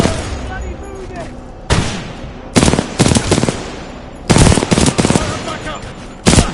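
Repeated loud bursts of automatic gunfire in the shooter game Titanfall 2, arriving in several short volleys with brief gaps, while voices shout over the combat.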